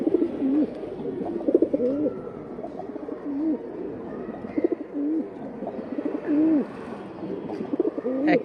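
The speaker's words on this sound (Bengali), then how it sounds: "এক পেয়ার নাপ্তা কবুতর," Naptha breed pigeons cooing steadily nearby, repeated rolling coos overlapping in a loose rhythm through the whole stretch, with no talk over them.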